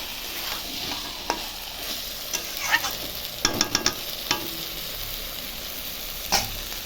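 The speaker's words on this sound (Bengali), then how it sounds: "এখন আমি ভালো করে মিশিয়ে নিচ্ছি" Spiced meat stirred and fried in a pan, with a steady sizzle under scattered scrapes and clinks of the spoon, a quick burst of knocks near the middle and one more sharp scrape toward the end.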